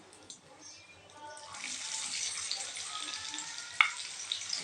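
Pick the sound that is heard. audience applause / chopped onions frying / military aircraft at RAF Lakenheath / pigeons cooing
chopped onions frying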